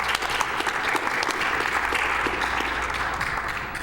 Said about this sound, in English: That one deserves some applause, I think.